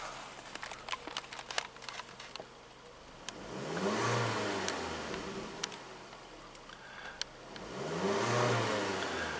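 Geely Emgrand X7 Sport 4WD SUV with a 2.4-liter inline-4, revved twice from idle, each rev climbing slowly and then falling back, at moderate loudness with small clicks in between.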